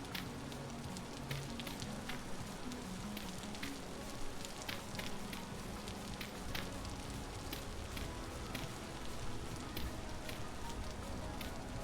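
Rain falls steadily in the video game Vintage Story, a soft continuous patter with scattered crackling drops, faint and even throughout.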